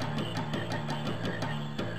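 A pond in the Final Fantasy IX game fills with frog croaking, repeated pulsing calls in a regular rhythm, close and clear with no one speaking.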